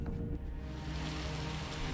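Heavy monsoon rain in Konkan's Sindhudurg district, a dense, steady broadband roar of downpour with no breaks across the whole stretch.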